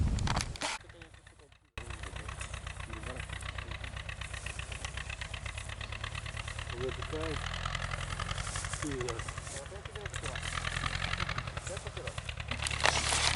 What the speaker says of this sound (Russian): а сейчас приедет трактор